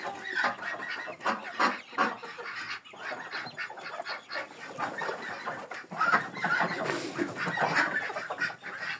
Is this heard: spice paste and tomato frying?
no